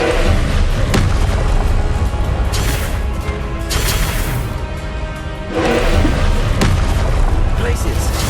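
Confringo blasting curse explosions in the video game Hogwarts Legacy, loud booming blasts with rumbling crashes, a few heavy impacts close together, accompanied by game sound effects.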